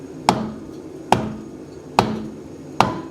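A hammer strikes a stuck part on a Chevy Sonic in four sharp metallic blows, evenly spaced about a second apart, each ringing briefly before fading.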